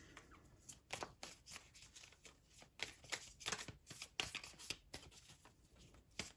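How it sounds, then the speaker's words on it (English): Tarot cards being shuffled close up, a soft repeated riffling and flicking that comes in quick bursts, fairly quiet. "Okay, just shuffling."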